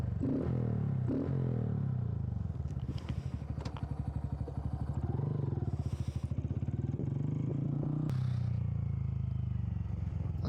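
A Honda Grom motorcycle fitted with a cold air intake revs close by, its small engine rising in several quick blips and one longer rev before settling back to idle.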